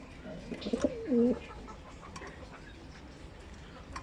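A few soft coos come from pigeons in a racing loft, faint and brief near the start and then fading into quiet room ambience.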